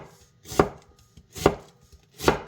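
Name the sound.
knife slicing onion into thin strips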